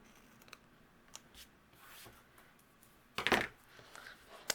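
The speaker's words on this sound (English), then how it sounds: "I'm going to use my scissors." Scissors snip paper strips for a handmade thank-you card, faint scattered ticks and rustles, then one louder, crisp cutting stroke close up, with no voice.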